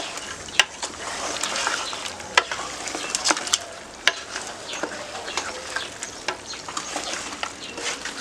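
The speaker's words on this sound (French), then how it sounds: "Je vais mélanger ça dans la bouffe." Potatoes mixed into food in a pot for a Congolese dish, irregular scraping and clacking strokes of a utensil over a soft sizzle, close and fairly loud, with no speech.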